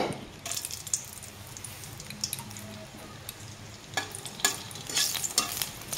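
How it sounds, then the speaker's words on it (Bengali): Dried red chillies frying in oil in a kadai, a low steady sizzle broken by scattered sharp crackles and pops, close and moderately loud, no voices. "শুকনো লঙ্কাটা একটু হালকা ভাজা হলে"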